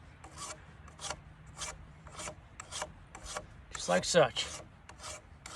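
Steel file rasping across the flat side of hoof nippers clamped in a vise, about a dozen rhythmic back-and-forth strokes, close and steady, with a brief spoken phrase near the end.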